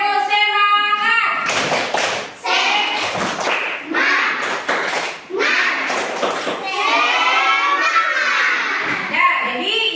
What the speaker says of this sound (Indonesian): Marilah sama-sama kita tepuk semangat dulu.